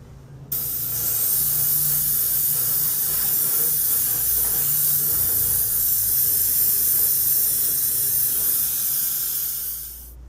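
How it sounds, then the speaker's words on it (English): Future floor wax sprays from an airbrush onto a scale model tank turret bunker, a steady, close hiss that begins suddenly and holds evenly for about ten seconds before tailing off. "I'm going to protect my model by giving it a coat of future floor wax."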